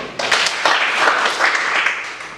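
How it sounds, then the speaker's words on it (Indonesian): Classroom applause for two students, Salwa and Doni: a burst of clapping from a group of people that starts abruptly, carries on evenly for about two seconds and then fades out. "Berikan aplaus untuk Salwa dan juga Doni."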